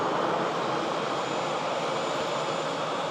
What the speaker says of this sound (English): the arriving EasyJet in from Murcia